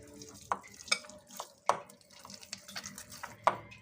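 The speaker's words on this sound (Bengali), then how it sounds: "তা আবার তেলটা দিয়ে আবার সুন্দর করে একটু ময়ান করে নিচ্ছি।" Dough being kneaded by hand with soybean oil, giving soft, irregular squelching and slapping sounds, close and fairly quiet, with a few sharper pats scattered across a few seconds.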